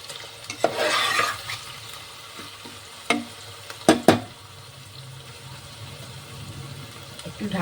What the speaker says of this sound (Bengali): এই পেঁয়াজ, চপ করা পেঁয়াজটা দিয়ে দেবো